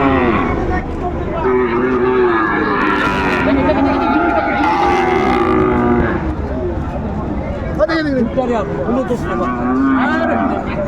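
Sahiwal bull calves and cattle at a livestock market in Dinajpur moo repeatedly, several long low calls rising and falling over a steady crowd murmur, fairly close and loud throughout.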